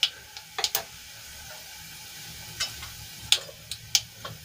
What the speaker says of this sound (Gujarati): આપણું તેલ ગરમ થાય એટલે એમાં અડધી ચમચી જેટલી રાઈ એડ કરીશું